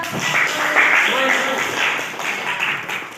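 Students applaud in a classroom during a teacher-training lesson, a steady burst of clapping lasting several seconds, fairly loud and close, with a few voices mixed in.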